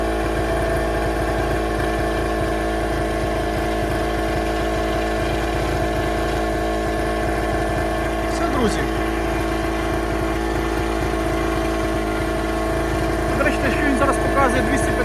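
A small portable 0.7 kW generator runs steadily under the load of a battery charger, a loud continuous engine hum with a constant drone throughout, while a person talks over it.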